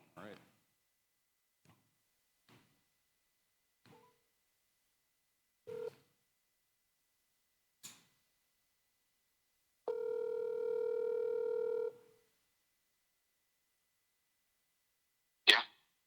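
A phone on speakerphone dials with short scattered keypad tones, then a single long steady ring tone sounds for about two seconds, followed by a sharp click; otherwise quiet, with no talking.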